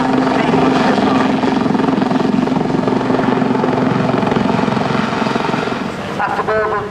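A Westland Lynx helicopter flies at an airshow, its loud, steady rotor and engine roar filling the whole stretch, with a voice speaking over it throughout.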